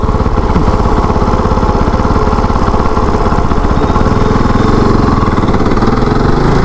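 A KOVE 450 Rally motorcycle, a 2024 Chinese 450 rally bike, pulls away in first gear after stalling its attempt in third, its single-cylinder engine chugging loud and close with a steady, pulsing low-gear throb.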